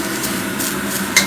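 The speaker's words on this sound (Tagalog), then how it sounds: "Haluin lang po natin para hindi siya masunog" Garlic fries in a pan for fried rice as a utensil stirs it, a steady close sizzle running throughout with a brief louder scrape of metal near the end.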